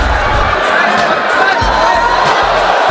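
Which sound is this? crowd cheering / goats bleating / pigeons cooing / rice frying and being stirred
crowd cheering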